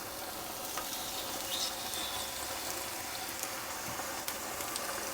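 Streaky bacon sizzles in olive oil in a frying pan, a steady crackling fry with scattered pops and spits throughout, close and moderately loud with no talk.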